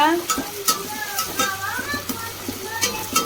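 Onions sizzle and crackle in hot oil for biryani, with occasional stirring scrapes, while a voice talks in Tamil over the frying.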